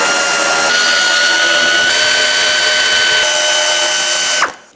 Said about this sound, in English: At the front, you'll see 4 7mm bolts. Let's remove all 4.